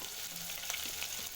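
Onions frying in hot oil in a pan while cooking a kale and fish dish, giving a steady close sizzle with a few light stirring clicks partway through.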